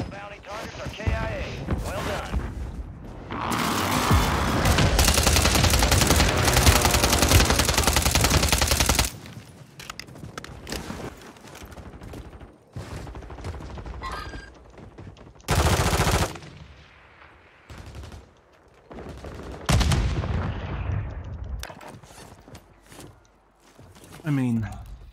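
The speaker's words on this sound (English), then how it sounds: "how do they have so many airstrikes?" Video game combat with gunfire and airstrikes: long loud sustained bursts of automatic fire and explosions, broken by quieter gaps and shorter blasts, with a player talking throughout.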